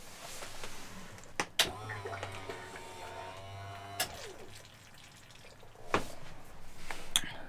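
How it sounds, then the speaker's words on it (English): Fuel pump running in a 1999 BMW 323 fitted with a custom chassis harness, a faint whirring hum in a quiet space, broken by a few sharp clicks and knocks. "So fuel pump does turn on."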